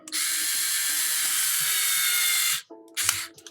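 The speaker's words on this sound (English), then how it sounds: "You can even use an electric screwdriver if you like." An electric screwdriver whirs steadily and loudly for about two and a half seconds while driving Phillips screws into a Game Boy Advance shell, then stops and gives a short second burst with a clack.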